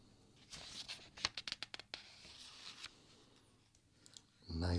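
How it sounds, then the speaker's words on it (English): Paper pages of a printed Life magazine being handled and turned: soft rustling followed by a rapid burst of crisp flicks and riffles, then quieter handling and a low thump at the end. "let's start flipping through this copy of Life magazine. We'll listen to the sounds of the paper"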